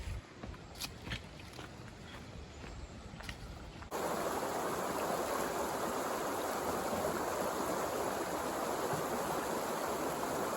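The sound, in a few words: creek flowing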